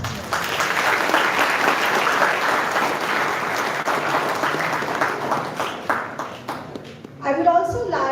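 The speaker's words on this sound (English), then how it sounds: "I request everyone in the audience to give a round of applause to all our teachers." An audience at a school felicitation for commerce faculty toppers applauds the teachers with sustained, dense clapping that thins toward the end, where a voice starts speaking.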